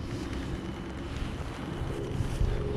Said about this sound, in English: this wind hasn't gotten any better